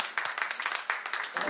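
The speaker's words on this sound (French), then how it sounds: "premiers applaudissements pour un personnel heureux de reprendre le travail" Hotel staff returning to work after months closed are greeted with a short burst of applause, a steady patter of clapping hands at moderate distance, with no clear talk over it.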